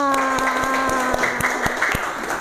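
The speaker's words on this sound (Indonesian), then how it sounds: "Tepuk tangan dong buat Salma." Students in a math classroom clap in a quick, fairly regular rhythm of sharp individual claps under a sustained voiced tone, moderately loud and close.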